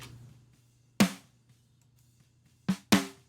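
Three punchy snare hits, blending unprocessed and heavily compressed, saturated sound, crack out, one alone and then a quick pair, over a faint low hum.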